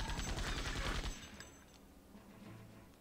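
Rapid burst of gunfire from the Septerra Core video game, a dense crackling volley for about a second before dropping to a quieter ringing tail and faint background tones.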